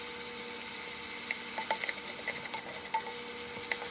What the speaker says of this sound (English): a nice hot pan, and sizzling off some thick cut pork bacon.